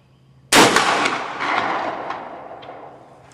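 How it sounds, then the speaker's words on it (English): A single close, loud blast from a 20 gauge slug gun fitted with a Handi-Cuff recoil device, with a sharp crack that decays into a long, rolling echo over several seconds. "we're going to take one more shot with this gun"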